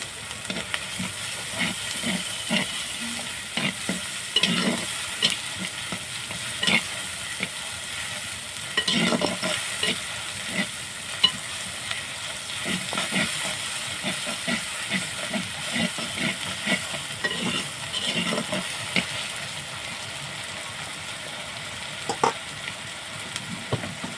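Chili, ginger and garlic paste fries with onions for chicken malai curry, giving a continuous hissing sizzle broken by frequent spatula stirs and scrapes throughout.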